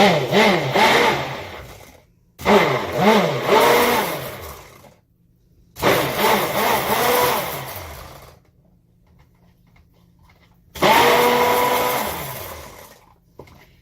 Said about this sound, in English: And then I'm going to take my stick blender.